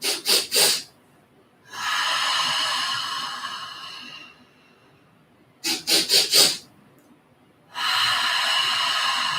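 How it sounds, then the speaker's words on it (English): Quick, sharp nasal inhales during a gentle yoga breathing exercise: a burst of three, then four rapid sniffs up close, each set followed by a long, steady, breathy exhale, with no talking. "take several sharp, quick inhales, and then a nice long exhale"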